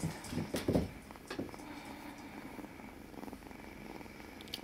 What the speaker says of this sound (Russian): Мурчит.